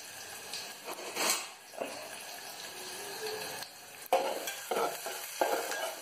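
Onion frying in a pan after mustard seeds splutter, with faint sizzling under intermittent spoon stirs and scrapes, quiet overall with a few sharper clatters.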